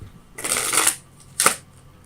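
Tarot cards being shuffled at close range, a dense riffling burst lasting about half a second followed by a shorter second flurry, with quiet in between and no talking.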